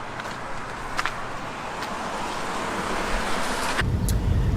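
A camper van drives through town in Pompano Beach, Florida, with steady road and engine rumble that grows louder toward the end, plus a few brief knocks.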